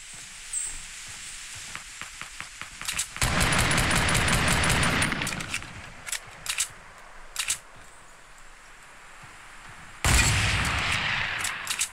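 Hunting rifle gunfire in the Fortnite battle royale game: a few sharp, loud reports, with two long bursts of crackling noise and scattered smaller clicks and pops between them.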